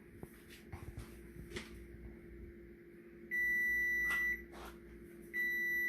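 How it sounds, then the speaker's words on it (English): A kitchen timer goes off during the canning of red onions in vinegar: a loud, steady electronic beep rings for about a second, stops, then sounds again, with soft clatter and handling noise before it. "Guess I need to turn my timer off."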